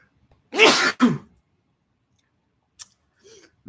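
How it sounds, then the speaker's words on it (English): A single close sneeze, a sharp two-part burst lasting about half a second, followed by near silence and a couple of faint, brief noises. "About to sneeze."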